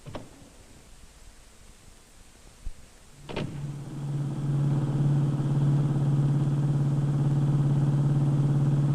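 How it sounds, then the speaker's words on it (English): A 1950s car starts up with a clunk and settles into a steady, droning engine hum that grows louder and stays constant as it drives toward town. "We all piled in the car and drove to town."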